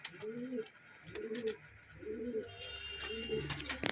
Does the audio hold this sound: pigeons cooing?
yes